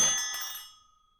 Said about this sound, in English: His pleasant fantasy was shattered by the ringing of a bell as the door to the small bookshop opened and then closed.